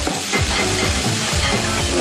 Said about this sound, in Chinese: 香油炒菜真方便哎